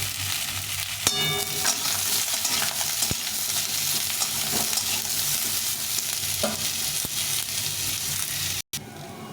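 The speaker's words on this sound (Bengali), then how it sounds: "মশলাটা আমাকে একটু ভেজে নেব" Steady sizzling of spice paste frying in a hot pan, with occasional stirring scrapes and a faint clink, continuous and close.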